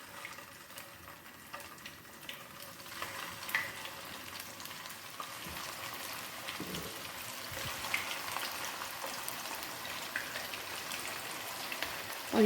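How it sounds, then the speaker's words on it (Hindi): Kebabs frying in hot oil in a kadhai, a soft, continuous crackling sizzle like light rain, faint and steady throughout with no voices. "ऑयल हमारा गर्म हो चुका है और अब मैं इसके अंदर कबाब डालूँगी"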